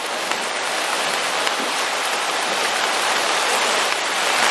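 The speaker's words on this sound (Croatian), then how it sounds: "Kiša još pada." Steady rain falling outdoors beside a small river, a dense, even hiss of drops and running water that continues without a break, loud and close, with no voices.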